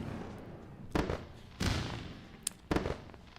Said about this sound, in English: Let's go to fireworks.